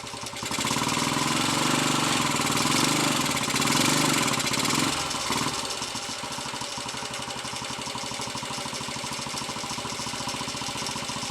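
Royal Enfield 250 five-speed motorcycle engine with a third-gear fault, running steadily in fourth gear; a close, continuous mid-pitched drone that is louder in the first half, then settles into a steady, slightly rougher hum.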